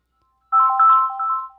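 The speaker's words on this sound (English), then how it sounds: "That ringtone's not as great, though." Phone ringtone signalling an incoming call at a radio morning show, a clear electronic melodic tone starting abruptly and holding for about a second with no talk over it.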